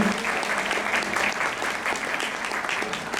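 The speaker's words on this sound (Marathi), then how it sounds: "तुमच्या सगळ्यांसाठीच एकदा तुम्ही प्लीज जोरात टाळ्या वाजवा" An audience at a music school's stage performance claps loudly and continuously for a few seconds, a dense, even wash of applause.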